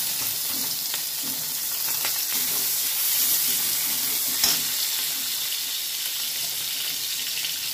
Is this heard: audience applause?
no